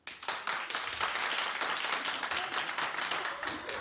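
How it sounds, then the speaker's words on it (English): A television talk-show studio audience claps loudly in a sustained, dense round of applause, close and continuous from start to finish with no talk over it. "First, clap if you think Casper will be okay."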